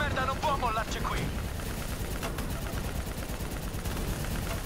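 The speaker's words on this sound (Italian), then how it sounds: "Si sta scaricando la mitragliatrice." Machine gun fire in the Call of Duty Black Ops 3 campaign, a steady continuous rattle buried in a dense game mix with music, explosions and a voice talking over it.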